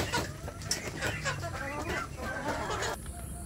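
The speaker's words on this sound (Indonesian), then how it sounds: "ini ayam kampung saya yang sudah dewasa" Adult free-range village chickens cluck repeatedly and irregularly close by in a farmyard, with overlapping short calls.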